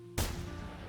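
A single close, booming rifle shot at a fallow deer in a hunting video game bursts out suddenly and leaves a long rumbling tail.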